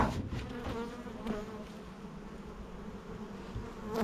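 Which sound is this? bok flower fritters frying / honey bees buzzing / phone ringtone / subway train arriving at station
honey bees buzzing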